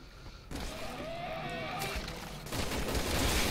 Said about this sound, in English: So I'm pissing machine gun bullets.